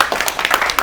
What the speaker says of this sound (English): Let's give Jessica a round of applause